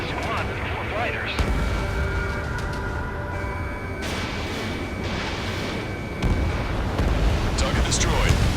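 Ace Combat 7 combat: a destroyed target erupts in a heavy, rumbling explosion amid continuous jet and battle noise, with a further deep boom swelling near the end.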